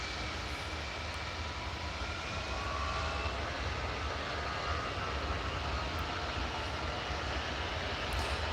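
An easyJet airliner bound for Paris roars steadily at Edinburgh Airport, a broad, sustained engine rumble heard from a distance with no voices, holding an even loudness throughout.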